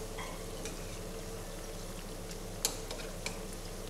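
Combro, a fried cassava snack, frying in hot oil gives a steady low sizzle with faint crackles and a couple of sharp utensil clicks, heard alone without talk.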